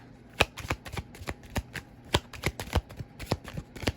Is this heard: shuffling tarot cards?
yes